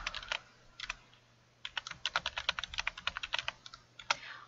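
Typing on a computer keyboard while filling in a goal planner in Word, with quick clusters of crisp, close key clicks after a brief pause, fairly quiet and without talk.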